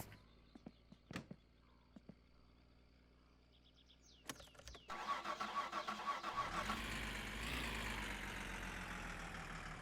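A Satsuma car engine in My Summer Car cranks and starts after a few scattered clicks and knocks, then settles into a steady, loud idle that fills the rest of the clip.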